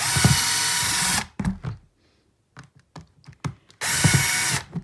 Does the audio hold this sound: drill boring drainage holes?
yes